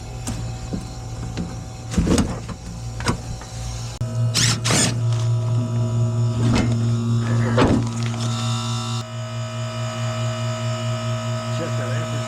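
A struggling Goodman gas pack motor in a unit that is not cooling gives off a steady mechanical hum with rattling, ratcheting bursts as it labors and grinds toward a stop, then settles into a quieter drone.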